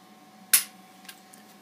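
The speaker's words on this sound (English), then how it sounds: "I'm going to go ahead and pull that trigger." A single sharp, crisp click from an empty Smith & Wesson Shield pistol as the trigger is pulled dry, close and clean, followed by a couple of faint, tiny ticks in a quiet room.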